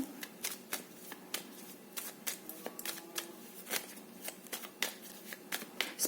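Tarot cards are shuffled over and over close by, a quiet, steady stream of crisp riffling flicks and taps with no talking.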